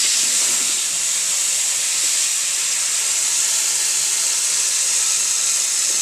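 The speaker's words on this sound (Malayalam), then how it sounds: "കുറച്ച് തേങ്ങാക്കൊത്ത് എടുത്തിട്ടുണ്ട് നെയ്ക്കകത്ത് വഴറ്റാൻ" Coconut pieces and raisins sizzle in hot ghee for pineapple payasam, a steady close frying hiss that runs unbroken throughout with no talk.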